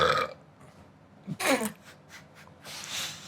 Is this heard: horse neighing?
no